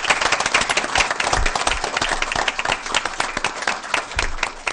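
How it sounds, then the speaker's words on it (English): Audience at a school board meeting claps in a loud, sustained burst of applause with dense, crackling hand claps throughout, a few sharper claps standing out near the listener. "I think we should give them another round of applause."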